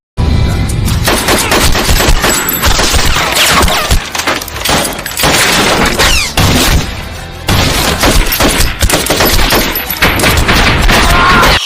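Gunfire in an action film scene, loud and dense rapid bursts of shots and impacts running almost without a break, with brief lulls and clattering debris.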